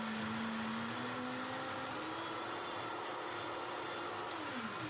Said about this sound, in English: A little smoothie this all morning. we do. It's a little green smoothie for you.